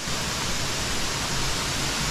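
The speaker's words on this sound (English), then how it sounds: "And here we are, the third waterfall." A waterfall in Thailand, a swimming spot, gives a steady, dense rush of falling water, loud and close and unbroken, with no voices.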